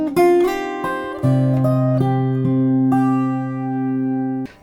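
An acoustic or electric guitar plays a riff, a few sustained plucked notes and chords ringing alone and close.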